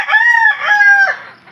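A backyard rooster crows loudly and close, one full cock-a-doodle-doo call in clear strained bursts that fades out at the end.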